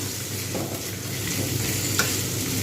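Pointed gourd and other vegetables sizzle steadily in a hot pan, with soft scraping from stirring and a faint clink near the end.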